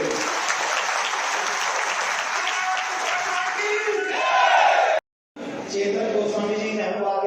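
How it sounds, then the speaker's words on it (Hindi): Applause from a large audience at a public gathering praising a Waqf board, dense steady clapping with crowd noise that swells briefly, cuts out for a moment, then resumes. "एक बार ताली बजाओ वक्त बोर्ड के इस कार्य के लिए"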